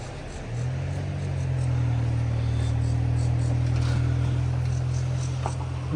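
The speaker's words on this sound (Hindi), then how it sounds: "This car is not made for this." A car's engine labors steadily as it strains up a steep hill road after rain in Himachal, a sustained low drone that rises and holds loud and close throughout, with no talk over it.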